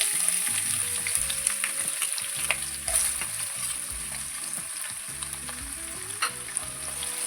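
Chopped medium onion frying with cumin in hot oil in a pan, a steady close sizzle with soft stirring scrapes and occasional light spoon taps against the pan.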